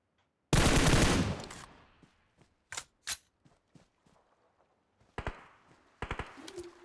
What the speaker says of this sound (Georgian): გაბოს მარკზე სროლა.